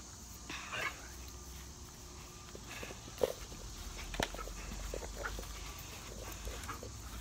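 An energetic dog moves about, its paws padding and scuffling in soft, irregular steps, with a few sharper knocks and thuds at close range.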